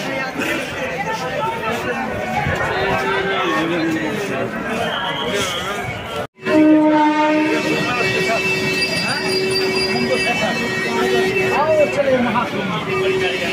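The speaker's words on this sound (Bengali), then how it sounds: "এটা তো লোকাল ট্রেন।" A local train passes near a crowded platform, its rumble and wheel noise joined after a short cut by a long, sustained horn tone, while crowd chatter and voices continue underneath.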